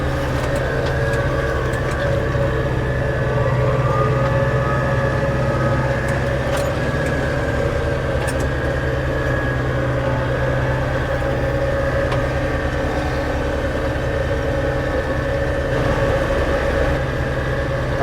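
A tractor engine runs steadily while mowing grass during a jubilee tidy-up, a loud, continuous mechanical drone with a low hum that holds throughout, no talk.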